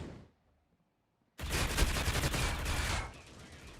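A rapid fusillade of gunshots in a competitive C-OPS match bursts in after a short silence, sustained loud firing for about a second and a half before tapering into quieter rattling.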